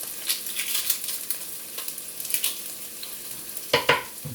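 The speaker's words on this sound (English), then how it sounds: "And to that I'm going to add some onion. And I'm just going to saute it till they're translucent" A small onion sautés in a pan, a moderate sizzle with soft crackles and occasional stirring scrapes, ending in a louder, sharper sizzle burst near the end.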